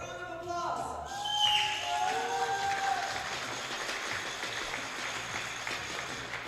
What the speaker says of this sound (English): That last round of applause was for everybody watching on the live stream.